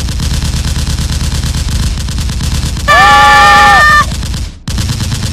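A volley of rapid gunfire crackles loudly and continuously, briefly interrupted by a sustained tonal blare before the shooting resumes and cuts off abruptly near the end.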